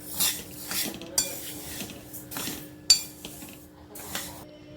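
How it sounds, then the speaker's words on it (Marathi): Fenugreek seeds dry-roasting in a pan over a low flame, heard as soft intermittent scraping and clinks from a stirring spoon against the metal, fairly quiet, with no talk. "लाडूसाठी अर्धा किलो मेथी घेतली आहे मी ती भाजायला घेतली एकदम मंद गॅसवर चांगली भाजायची आहे खरपूस"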